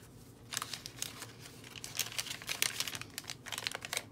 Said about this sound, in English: I really love that sound of the tracing paper.